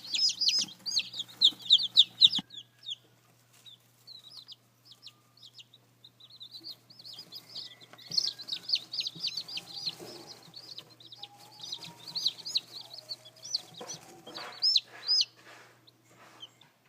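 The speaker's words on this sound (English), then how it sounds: "but they sure are cute chicks, aren't they?" Baby chicks from a feed store peep in a steady stream of high, thin chirps, close to the microphone and nearly continuous, with brief pauses and no talking.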